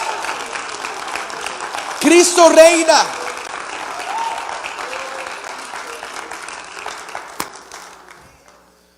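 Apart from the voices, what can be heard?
church congregation applause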